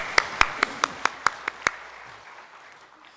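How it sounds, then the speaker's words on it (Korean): Eight sharp, evenly spaced claps from a church congregation during a Sunday worship service, offered as applause of glory, ringing in a reverberant hall before fading into quiet. "주께 영광의 박수를 올려드리겠습니다"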